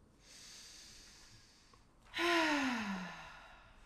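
A deep exhalation during a yoga class, a long breathy sigh rising sharply and then tapering off, close and clear after a softer breath earlier.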